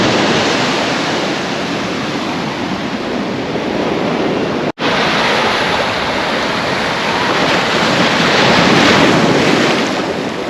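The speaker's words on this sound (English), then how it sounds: "so you just enjoy the waves" Rough ocean surf on a beach in Mexico roars steadily and loudly, with heavy wind buffeting the microphone and one sudden brief dropout partway through.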